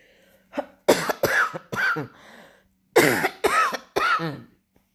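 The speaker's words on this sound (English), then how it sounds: "this cough keep trying to creep up" Several harsh coughs come in two bursts with a short pause between them, close and loud, and no talking.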